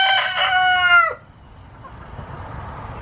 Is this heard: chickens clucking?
yes